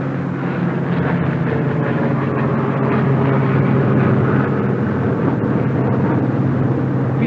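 Republic P-47 Thunderbolt fighter plane taking off, a steady, loud, dense radial-engine roar that holds constant throughout with no talk over it.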